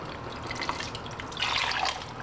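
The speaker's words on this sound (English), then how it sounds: "I'm actually gonna close the lid and shake it up. so that I get every bit of that salsa in this pot." Water sloshing around inside a closed salsa jar as it is shaken, a close, steady liquid swishing that grows busier and louder toward the end of the short burst.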